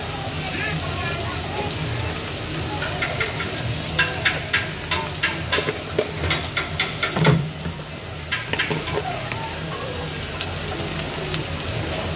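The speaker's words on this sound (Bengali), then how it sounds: "পেঁয়াজ বাটা রসুন বাটাটা দিয়ে আরও একটু নাড়াচাড়া করে ভাজা ভাজা করে নেব" Loud frying sizzle of onion and garlic paste in a pan, with a run of quick scraping stirs in the middle and a steady crackle underneath.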